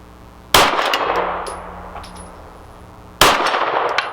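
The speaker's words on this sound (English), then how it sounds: "Keep getting the gong." Two 9mm pistol rounds from a Walther PDP Match steel-frame handgun hit a steel gong target, each producing a loud, sharp metallic clang that rings out and fades, spaced a few seconds apart with no talk.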